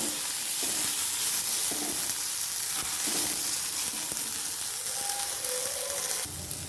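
Garlic and tomato sauté with onion in hot oil, giving a continuous close sizzle with occasional stirring scrapes and a faint hiss, no voices.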